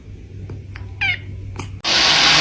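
A kitten gives a few short, high meows, one clearer rising and falling call in the middle, before a sudden loud rush of broadband noise takes over.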